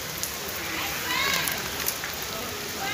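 Rain pours steadily during a motorbike ride, making an even, bright hiss with faint scattered patters and no breaks.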